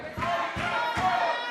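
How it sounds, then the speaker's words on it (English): Wrestling crowd at a dog collar match in a casino arena, a brief swell of cheering and shouting voices rising in three quick surges. "The crowd getting behind young Mighty Joe."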